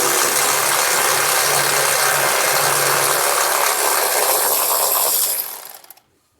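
A ratchet loosens a 12 mm nut on the charcoal vapor canister bracket of a Toyota truck, a steady close, loud clicking rattle lasting about five seconds before cutting off into quiet.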